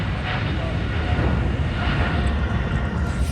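A fixed-wing airplane passes near Dubai airport, a steady, moderately loud engine roar that holds evenly across the moment with faint background voices.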